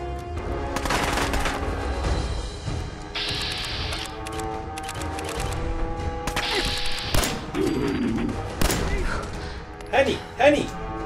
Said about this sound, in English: Use the musket.